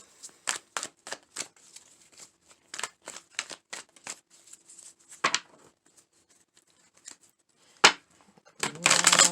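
Tarot cards riffle and snap in a series of quick, crisp bursts, with pauses between shuffles and a final flurry at the end.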